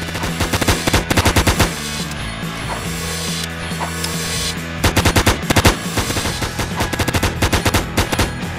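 Rapid bursts of automatic gunfire from a weapon in a Roblox zombie tycoon game, loud and close, firing in repeated rattling volleys with brief pauses and mechanical clicks between bursts.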